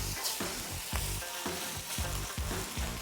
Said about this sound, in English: Ripping hot pan avocado oil. Drop that beautiful steak carefully.